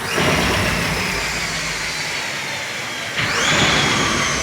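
All-wheel-drive Honda CRX converted to electric motors, its drivetrain whirring steadily under throttle with a rising whine, a sharp jump in pitch and level near the end as the throttle is blipped again; no talk.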